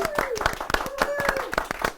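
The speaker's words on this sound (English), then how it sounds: "Let's give them a round of applause" A school audience applauds a kindergarten class's first-place science fair win, many hands clapping in a brisk, uneven patter with a voice sounding over the applause.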